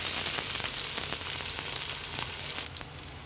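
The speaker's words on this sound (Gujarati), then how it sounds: "કાંદા લસણને થોડી વાર સાતળવા દઈએ।" Chopped onions and garlic sautéing in a pan for pasta, a steady, close sizzle and crackle of frying with a few soft stirring scrapes, no voices.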